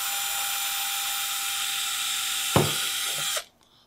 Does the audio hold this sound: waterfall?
no